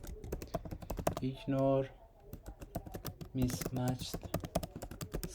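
Computer keyboard typing in a steady run of quick clicks, with someone speaking over it throughout while entering code for an image classification model training class.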